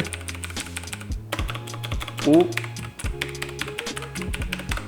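Rapid typing on an old Razer mechanical keyboard with missing E and 1 keycaps and a loose W key: steady, close clacking keystrokes in uneven bursts, with one brief exclamation from a person.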